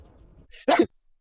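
A single short, sharp sneeze in the Warcraft Adventures video game, preceded by faint low rumbling and followed by silence.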